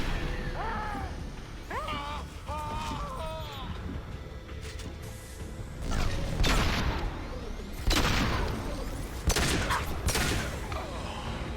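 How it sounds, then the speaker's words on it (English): Heavy gunfire in Mass Effect 2: rapid bursts of shots and booming impacts ring out close and loud, growing denser toward the end, with brief voice-like sounds early on. "Taking heavy fire."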